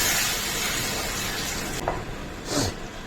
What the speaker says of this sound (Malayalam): കഴുകി വൃത്തിയാക്കിയ ചിക്കൻ്റെ ലിവർ നമ്മൾ ആ ചട്ടിയിലേക്ക് ആഡ് ചെയ്യാണ്.